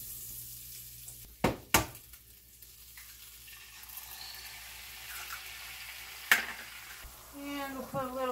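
Eggs fry in butter in a pan that already held fried Spam: a soft, faint sizzle runs throughout, broken by a few sharp clanks near the start and another knock later, with some light watery movement toward the end.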